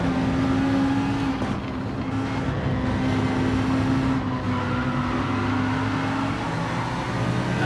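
Race car engines drone steadily during an online daily race in Gran Turismo 7, a sustained high-pitched engine whine with slight shifts in pitch as cars run close together.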